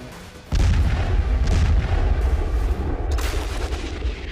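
Indian Army artillery guns fire at night, a sudden deep boom followed by rumbling reports and a second blast, loud and booming with no voices.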